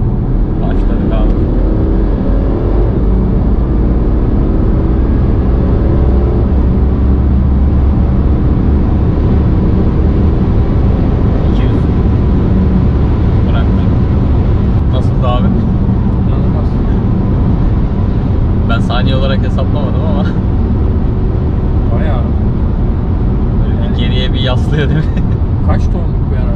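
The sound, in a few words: BMW Alpina D3 Bi Turbo car accelerating hard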